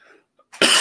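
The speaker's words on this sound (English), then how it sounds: "And the coughing is not for vamping." One sharp cough bursts out loudly and close after a moment of near silence, cut off right at the end.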